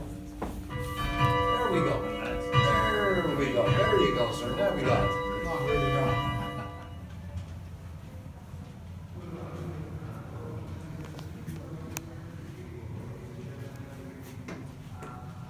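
A large bell in Dublin, rung by pulling, rings with a rich, ringing tone that fades into a long decay, followed by quiet room noise and a brief spoken remark.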